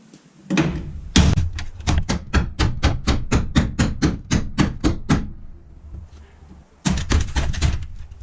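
Rapid, loud metallic hammer blows strike a part of a crashed Ford Bronco in a steady series, followed by a pause and then another quick burst of hits.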